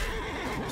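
A horse neighs in the Mount & Blade II: Bannerlord video game, set in a medieval Europe 1100 mod battle near a shield wall, a short, close whinny with a wavering pitch and no speech.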